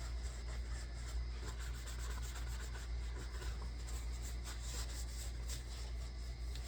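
A clean rag rubs steadily along a knife blade up close, a quiet continuous scratchy friction with no talk.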